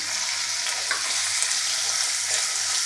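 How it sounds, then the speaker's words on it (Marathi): Finely chopped onion sautés over a low flame in a pan, giving a continuous close sizzle with light crackles and stirring and no voices. "गॅसची फ्लेम आपल्याला लो ठेवायची आणि सोनेरी रंगावर परतून घ्यायचं आहे आता कांदा परततोय"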